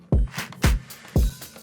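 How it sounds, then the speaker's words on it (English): A small clap fill in a dance pop track, with quick, crisp clap hits scattered between three punchy, evenly spaced kick drum thumps, loud and upfront with no voices. "Then there's also like a small clap fill."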